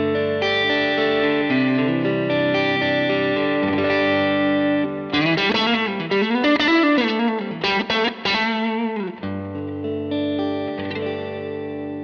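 Electric guitar played through a Jackson Audio Golden Boy overdrive pedal, gain near noon, with sustained distorted chords giving way to a busier riffing passage and then ringing chords again, loud and upfront with no talking.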